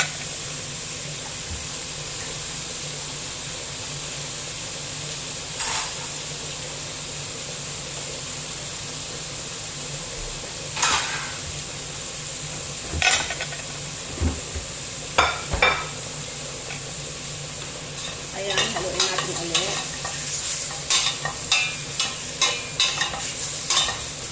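Sotanghon noodles and vegetables sizzle softly in a pan while a utensil stirs and scrapes in scattered bursts, the clatter growing busier toward the end under a steady frying hiss.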